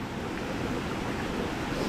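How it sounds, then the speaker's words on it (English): Rushing water at the bottom of Rhiwargor Waterfall, a steady, broad roar with no breaks, close and fairly loud, with no voices. "Here's the bottom of Rhiwargor Waterfall."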